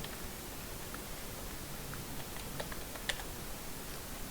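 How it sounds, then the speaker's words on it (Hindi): A word being typed on a computer keyboard, faint soft key clicks scattered over a steady hiss, with one slightly sharper tap. "मान लीजिए हमने कोई वर्ड यहाँ टाइप किया"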